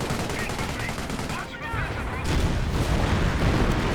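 A bolt action rifle and other gunfire ring out in a Company of Heroes battle: a dense mix of rapid shots and booming impacts, steady and then louder and fuller partway through, with a voice faintly underneath.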